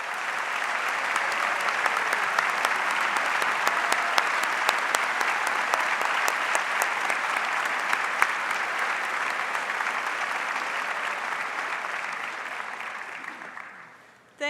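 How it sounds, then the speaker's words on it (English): A commencement audience at a kinesiology graduation ceremony applauds in a long, dense, steady round of clapping that fills the hall for about fourteen seconds, then cuts off abruptly. "let's give them a round of applause"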